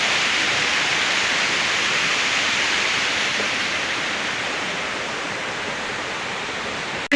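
Goonagummi waterfall roars as a steady, loud, broadband rush of falling water, unbroken and alone throughout.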